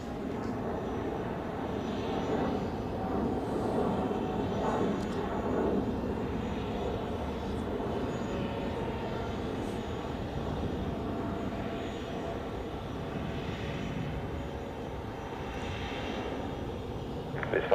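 A Qatar Airways Airbus A380 departs Zurich Airport, its jet engines producing a steady, heavy low roar that holds for the whole stretch at moderate distance, gradually easing near the end.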